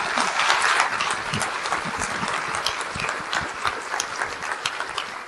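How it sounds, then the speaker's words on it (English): Steady applause from a crowd, dense clapping that carries on for several seconds without talk. "Please, another big round of applause for them."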